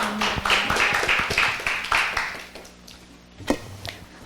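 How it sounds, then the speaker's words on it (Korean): Audience clapping at an academic conference after a panel presentation, scattered hand claps at moderate level that thin out and fade, with a single sharp knock near the end. "박수 부탁합니다"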